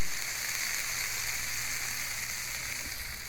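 Onions sizzling on a grill at a burger place, cooked alongside frozen burgers: a steady, close hiss of frying that holds evenly throughout with no other sounds on top.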